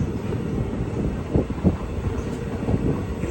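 The Kaveri Express pulls out of Mandya station after a two-minute halt, a steady low rumble of rolling coaches with a few heavier clanks and thumps, heard from inside the train with no voices.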